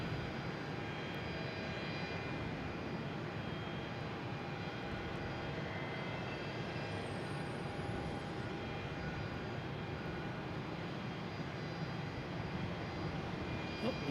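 At Boston Logan International Airport, an Air France airliner heading out toward runway 22 gives a continuous jet engine roar and whine, steady and unbroken over the whole stretch, heard from a moderate distance.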